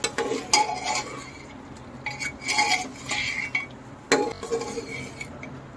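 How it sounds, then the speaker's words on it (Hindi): Mutton pieces roasting with turmeric and salt in a pot are stirred in bursts, giving close clanks and scrapes of a spoon against metal over a faint sizzle. "चलिए फ्रेंड्स, इसको भी हम खूब अच्छे से भून लेते हैं 2 मिनट के लिए।"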